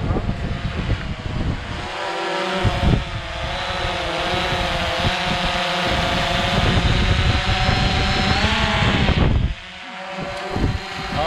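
Small fishing drone carrying a line for surf casting hovers with a steady, loud buzzing whine of propellers, holding fairly constant for about nine seconds before easing down near the end, with a few clicks and bumps.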